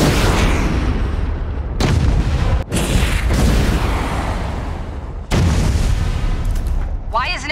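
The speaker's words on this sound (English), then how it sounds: "Activate the launcher and bring it down. Launcher's ready to fire." Missile launcher firing at an airship in the video game Homefront: The Revolution, a series of loud booming blasts and rumbling bursts separated by brief abrupt gaps, with a quick crackle near the end.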